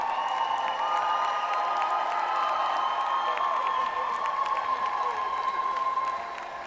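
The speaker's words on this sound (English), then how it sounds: "Let's have a big cheer for both teams, please." Roller derby bout crowd cheering for both teams, a sustained wash of applause, whoops and shouting voices that holds steady and then eases at the end.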